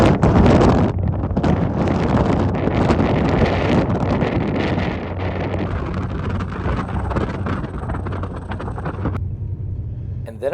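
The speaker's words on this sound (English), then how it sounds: "well, it is a bit windy" Heavy wind buffeting the microphone at a fjord in Iceland or Norway, a loud continuous low rumble with gusty roar throughout, dropping slightly near the end.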